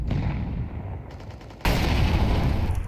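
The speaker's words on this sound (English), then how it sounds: "there's the sound cue off the back of a flashbang" Flashbang grenade going off during a professional Counter-Strike match, heard as a sudden loud burst partway through that stays dense and bright, over the steady rumble and clatter of in-game action.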